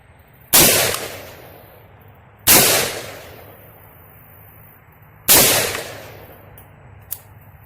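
Three loud, sharp shots from a Palmetto State Armory Marauder rifle in 300 Blackout, spaced a couple of seconds apart, each with a long outdoor echo trailing off, plus a small click near the end.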